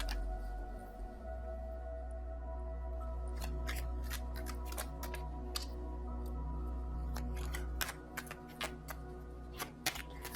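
Tarot cards shuffled and drawn, a run of crisp close card snaps and slaps over a low steady hum, busier toward the end, with no talking.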